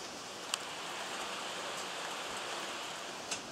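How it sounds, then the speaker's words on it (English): A pot of water heats over a solid fuel cube, Esbit or trioxane, during an outdoor stove boil test, giving a faint, steady hissing roar with a couple of tiny ticks. "there's a nice little roar coming from the pot now"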